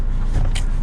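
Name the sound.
Renault Clio 5 car starting to drive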